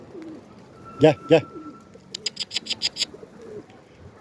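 Pigeons coo nearby in a short run of soft, throaty pulses, following two brief calls from a person.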